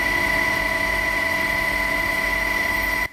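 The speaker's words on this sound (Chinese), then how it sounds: "空勤乌用直升机飞去台中和平的马武坝登山口" An air-service rescue helicopter flies toward the Mawuba trailhead in Heping, Taichung, giving a loud, continuous engine and rotor drone that holds steady before cutting off abruptly at the end, with no talking.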